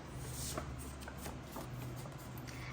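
Tarot cards are shuffled in quick, soft flutters, faint and close over a steady background hiss.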